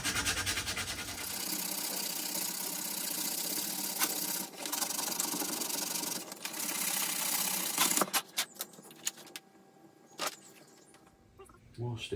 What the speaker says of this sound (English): I'm just going to sand this back so it sticks down nicely.